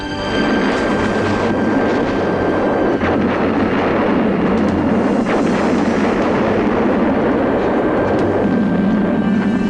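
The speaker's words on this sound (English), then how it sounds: "The explosion of the Terminator's gas tanker truck looks enormous, but in reality, the vehicle was an 8-foot-long model, carrying 3 gallons of gasoline." An 8-foot miniature gas tanker truck carrying three gallons of gasoline blows up for a film effect, releasing a loud, sustained roaring rumble that fills the whole stretch without letting up.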